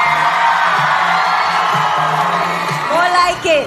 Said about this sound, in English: Can we make one loud cheer for everybody who couldn't join us?